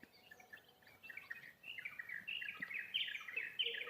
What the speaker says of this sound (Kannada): ಹಕ್ಕಿಗಳು